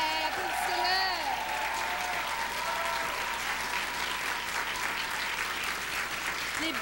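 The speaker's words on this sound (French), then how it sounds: "Applaudissez-le!" A studio audience at a televised live music show applauds a saxophonist, producing a strong, continuous roar of clapping that holds evenly throughout, with a voice briefly audible over it near the start.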